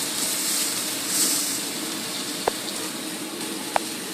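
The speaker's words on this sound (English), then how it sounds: "Hear the sizzle." Salmon skin fries in a pan with a soft, steady hiss and sizzle as the edges crisp. Two brief sharp pops break through the sizzle.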